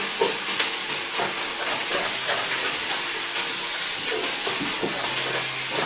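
Sofrito with salt sizzling in a pan for spaghetti Bolognese, a steady close hissing crackle with small popping spits throughout, alone without talk.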